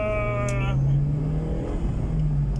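A 75-horsepower car pulls away from a rest stop on the road toward Örebro, its engine note climbing steadily and droning loud and close from inside the cabin.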